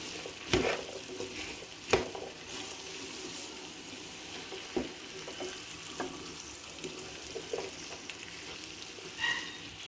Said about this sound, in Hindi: भिंडी को अच्छे से इस मसाले के साथ मिक्स कर लूंगी और 2 मिनट इसे पकाऊंगी